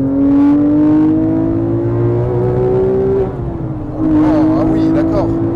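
A Corvette race car roars through a racing video game, holding a loud, steady high-revving engine drone that dips briefly midway with a gear change before climbing again.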